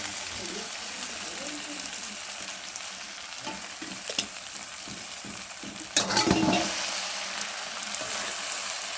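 Potatoes and poha with turmeric and salt being stirred in a pan, a steady frying sizzle with repeated scraping strokes of the spoon and a louder clatter partway through, no one talking.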